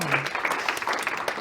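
An audience at a performers' showcase claps steadily as a volunteer is invited on stage, a dense patter of hand claps filling the room with a brief voice near the start.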